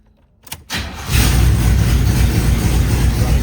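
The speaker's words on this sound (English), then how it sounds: "I'm gonna let y'all hear this mug run." Near and loud, a box Chevy Impala engine cranks briefly, catches, and settles into a rough, rumbling idle, with no talking.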